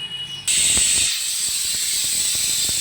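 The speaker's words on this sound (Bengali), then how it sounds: "চলো সিটি পড়ে গেছে" A pressure cooker whistle goes off with a sudden loud, sustained hiss of escaping steam that continues steadily to the end, close by, with no talk.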